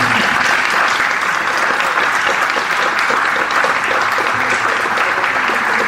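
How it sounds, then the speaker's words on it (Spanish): A book-presentation audience keeps up loud, steady applause, dense even clapping filling the room from start to finish with no pause. "Propongo que los aplaudamos un poco más."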